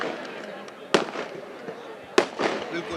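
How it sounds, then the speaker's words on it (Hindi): Fireworks bursting at a Holi festival celebration in India, two sharp loud bangs about a second apart with crackling tails, over a steady outdoor crowd murmur and background voices. "ये जो आतिशबाजी हो रही क्यों हो रही?"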